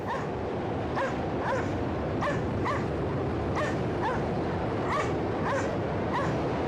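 Dogs bark in the video game Cryostasis, a run of short, evenly spaced yips and barks repeating at a brisk rhythm over a rumbling ambient background.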